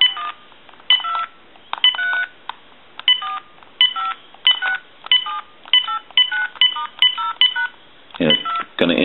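Dialing tones from a Uniden EXS9966 two-line 900 MHz cordless telephone, a steady series of about fifteen crisp, evenly spaced beeps heard clearly on the line, ending with a brief burst of noise.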